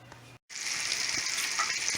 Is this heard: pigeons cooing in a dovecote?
no